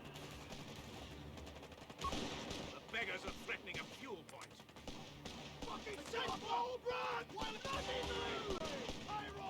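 Mortar and other weapons fire in the World War II strategy video game Company of Heroes 3: repeated thumping impacts and crackling gunfire in a busy battle mix, with someone talking over it.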